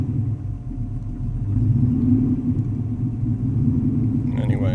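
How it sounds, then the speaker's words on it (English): A probably flooded car engine, with a looping fuel-priming fault, is held running by foot on the throttle, giving a close, continuous rumble that rises slightly midway and stays steady, with a brief light rattle near the end. "I'll keep it alive with my foot on the throttle,"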